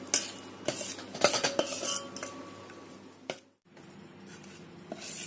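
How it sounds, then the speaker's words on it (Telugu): A spoon scrapes and clinks against a pan while stirring a sugar syrup and rice flour mixture, in a run of close metallic knocks and scrapes, then a brief pause before softer stirring resumes. "1/4 టీ స్పూన్ యాలకుల పౌడర్ని వేసుకొని అంతా మిక్స్ అయ్యే విధంగా మిక్స్ చేసుకుందాం."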